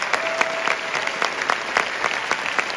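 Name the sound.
applause in the Canadian parliament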